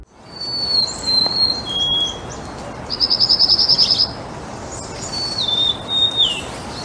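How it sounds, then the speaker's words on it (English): Golden-crowned sparrow singing alone, a few clear high whistled phrases with pauses between, one a quick rapid trill, and a final slurred whistle, fairly close over faint background hiss. "The golden-crowned sparrow has a song that feels like a quiet sigh drifting across the landscape."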